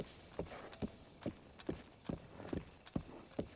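Horse hooves clip-clop in a video game, a steady walking rhythm of about two sharp hoof strikes per second, close and distinct over a faint background with no talking.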